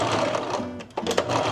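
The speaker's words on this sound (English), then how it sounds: "let's see if we can sew this together." A sewing machine stitches fabric in a fast, steady mechanical whir, close and loud, with a short pause and a few clicks before it resumes.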